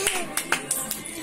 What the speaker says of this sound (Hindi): एक बार ताली बजाओ